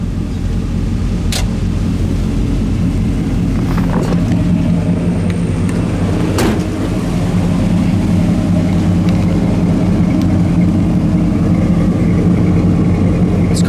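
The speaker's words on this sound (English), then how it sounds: "Car's been sitting here idling for about 5-10 minutes, and I'll tell you what, the idle hasn't changed a bit." A 1965 Chevrolet El Camino engine idles steadily and evenly, a continuous low rumble that stays close and fairly loud for the whole stretch, with no voices over it.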